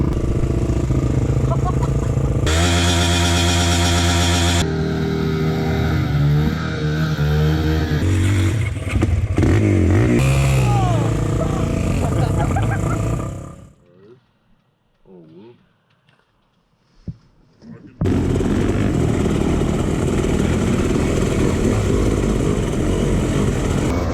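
Dirt bike engine revving loudly on a muddy trail on the Karapoti ride, with gear-shift rises and roars, a brief quieter lull midway, then sustained full-throttle riding noise to the end.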